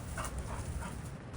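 Near a mountain temple in Hadong, a dog barks upward at a cat resting in a tree, a few muffled yelps in quick succession over outdoor background noise.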